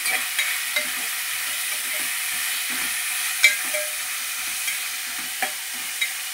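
Onions fry in a pan with a constant hiss of sizzling oil, while a spoon scrapes and stirs them in short, irregular strokes close up, with no talking.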